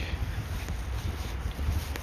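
Continuous wind rumble buffets the microphone at a steady level, low and blustery, with no speech.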